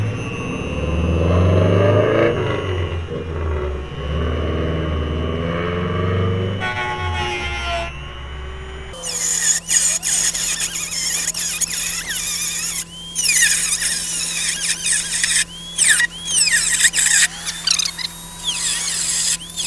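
A high-pitched power cutting tool whines and screeches through rusted sheet metal on a Jeep Comanche, loud and close, first with a lower rumbling grind, then sustained shrill cutting broken by brief pauses.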